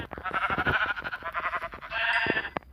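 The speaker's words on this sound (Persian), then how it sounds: "ببین میبینی که یه عالم گوسفند" Sheep bleat several times in the video game Minecraft, a quick run of wavering bleats at fairly low volume, ending with a few short clicks.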